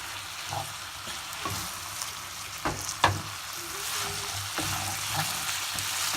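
Food sizzling in a pan over a flame, with occasional scrapes and clicks of a spoon stirring through it, a steady low frying hiss running throughout.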